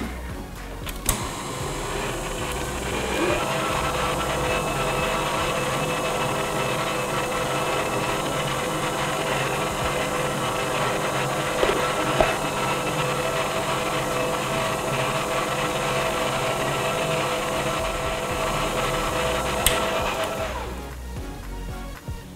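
Several home stand mixers with regular paddles whir steadily together for about twenty seconds, a continuous loud mechanical drone with faint clicks, then cut off near the end.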